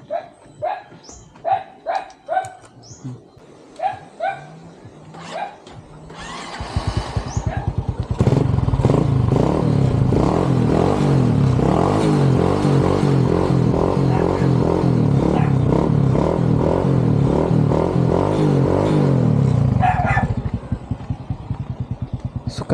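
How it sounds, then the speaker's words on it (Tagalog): Yamaha Mio scooter engine heard after several sharp dog barks; it catches and settles into a loud, steady idle and rev that runs close by for about fourteen seconds before easing off, with another bark near the end. "Ato ito ipaanda ang motor Mio."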